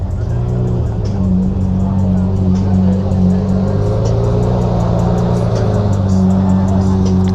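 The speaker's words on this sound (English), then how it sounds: "Rev it. Come on, let's hear that V12." A V12 supercar engine at a supercar meet rumbles loudly and steadily, with low harmonic drone and rising revs throughout, close by, with crowd noise and voices mixed in.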